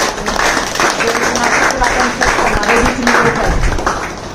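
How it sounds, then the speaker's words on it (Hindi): An audience at a meeting claps in a continuous round of applause, fairly loud and near, while a voice speaks over the clapping. "आदरणीय टीसी सर का दिल से शुक्रिया अदा करेंगे और तालियां करेंगे उनके माध्यम"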